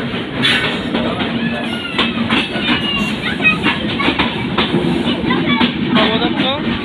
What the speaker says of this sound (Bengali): ফাইনালি ট্রেন চলে আসছে।